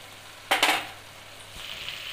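Ghee added to a pan of milk halwa gives a sharp sizzle that jumps up suddenly and crackles loudly. It then fades into a quiet, steady frying hiss, close by, with no talk.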